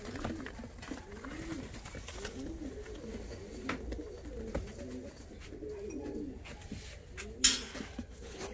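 Show pigeons cooing repeatedly in soft, rhythmic rolling calls, steady and fairly close, with a brief sharp click near the end.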